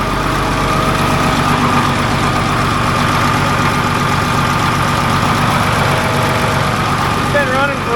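The diesel engine of an ex US Navy Cat D7F dozer runs with a loud, steady rumbling idle, close by and unbroken, with faint mechanical whines near the end.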